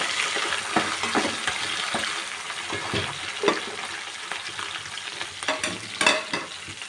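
Onion and green chillies sizzle and crackle in a hot pan while a spoon stirs and scrapes them around, with irregular clinks close by.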